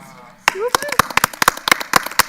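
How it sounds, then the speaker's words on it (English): Applause at a school board meeting in Marion County: sharp, separate claps from a small group, loud and close, starting abruptly after a brief voice and running steadily to the end. "let's give another round of applause for our Great 8"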